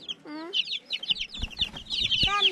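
Young chicks outdoors peep and cluck in a busy, chirping cluster, with sharp high calls repeating close by and a few soft thumps underneath.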